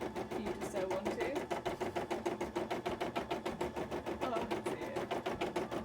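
A sewing machine stitches a grid onto a cosplay armor piece, a fast even rhythmic chatter running steadily throughout, with a brief voice over it.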